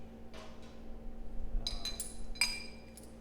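An old rubber gasket from milking equipment is tossed into a trash bin, giving a few light clinks and a soft clatter over a steady low hum, with no talking.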